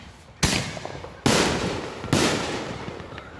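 Three loud firework blasts boom out at close range, spaced roughly a second apart, each sharp crack trailing off into a crackling decay.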